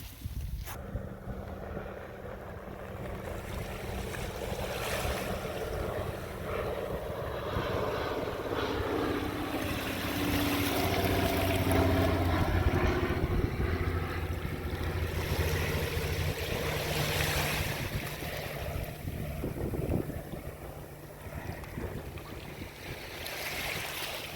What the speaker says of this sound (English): Just got a flyby by a float plane.